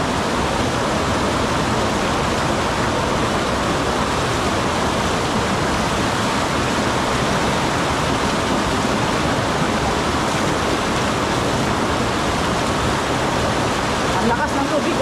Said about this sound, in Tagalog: Ang lakas ng tubig, gabi.